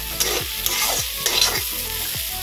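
Food frying in a pan on a home kitchen stove while rice cooks alongside, heard as a steady moderate sizzle with repeated scraping strokes of a spatula stirring, roughly every half second, with no talking.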